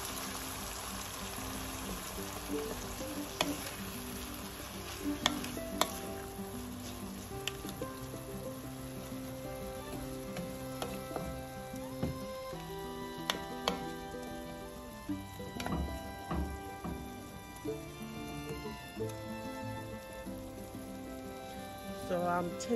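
Blended peppers stirred in a hot pan for a Nigerian peppered fish dish, giving a steady close sizzle and frying crackle with scattered scraping and clinking from the utensil, and no voices.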